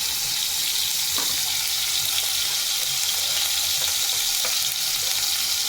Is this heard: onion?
yes